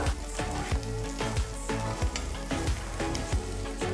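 Thinly sliced onions sauté in a pan until golden brown for a Ramadan lunch. A soft, continuous frying sizzle sits under rhythmic background music with a steady beat.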